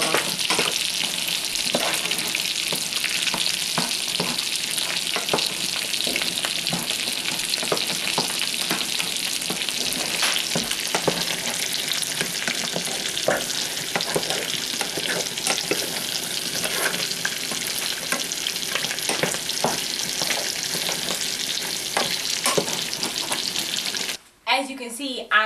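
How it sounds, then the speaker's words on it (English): Potatoes and onions sizzle steadily in a frying pan while a utensil stirs them, a constant hiss with soft scraping throughout that cuts off abruptly near the end. "I'm just gonna stir my potatoes and onions a little more."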